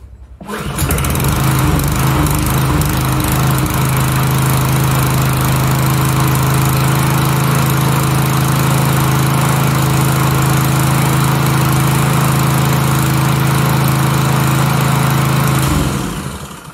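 A Remington lawn mower with a Honda clone engine runs steadily for about fifteen seconds, loud and close, its hum unbroken from start to stop, with no talking.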